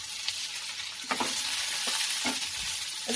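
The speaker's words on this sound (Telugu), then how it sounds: "ఇది కూడా ఒక 2 మినిట్స్ ఫ్రై అయినంత వరకు ఉంచేద్దాం." Cut capsicum sizzling and frying in a pan for a crispy chilli chicken dish, a soft, steady crackle with a few brief stirring scrapes.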